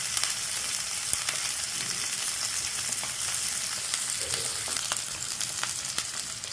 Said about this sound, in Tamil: வெங்காயம் நல்லா ப்ரௌன் கலராக வர வரைக்கும் நம்ம வதக்கணும்.